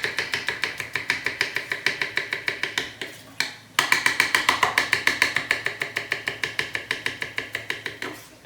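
Knife chopping garlic into very thin slivers on a board, a fast steady run of crisp close taps with a brief pause midway, no talk.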